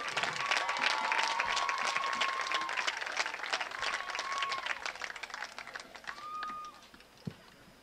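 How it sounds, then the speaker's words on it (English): Sustained applause from a crowd at a girls' soccer senior celebration, dense clapping that gradually thins toward the end, with a few faint whistles mixed in. "give another round of applause for All City, Maddie Stanback."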